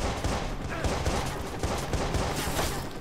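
Rapid gunfire from a weapon in the Watch Dogs video game, a dense continuous burst of shots filling the moment at steady loudness with a faint voice underneath.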